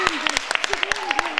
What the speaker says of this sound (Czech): váš potlesk patří studie současného tance Energy